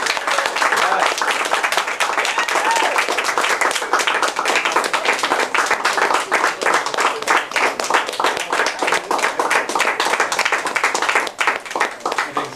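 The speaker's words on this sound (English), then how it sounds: "Let's give them a round of applause." A room of Toastmasters club members gives a sustained round of applause for newly installed members, loud, dense and steady clapping that continues for over twelve seconds before tapering slightly.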